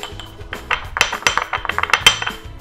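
White sugar being shaken in a crème brûlée ramekin: a quick run of light clinking and rattling taps, close and fairly loud, in an uneven rhythm, with no voice.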